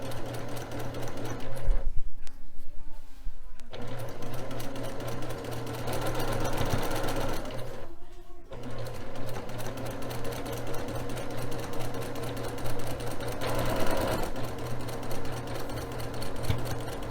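Close, loud whirring of a sewing machine stitching dark green quilt strips together, running in continuous steady bursts with short pauses between seams.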